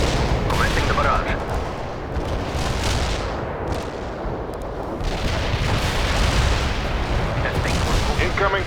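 A World in Conflict artillery barrage pounds without letup: dense, overlapping booms and rumbling blasts form a loud, continuous roar, with sharper impacts standing out at intervals.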